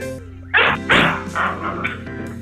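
A dog barks and yips a few times in quick succession, close and fairly loud, with a faint whine between the barks.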